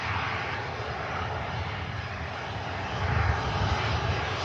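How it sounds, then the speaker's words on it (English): A Ryanair passenger jet departs Manchester Airport, its engines producing a steady, loud roar that swells slightly toward the end, with no talk over it. "Next aircraft out, we have a Ryanair for Brussels."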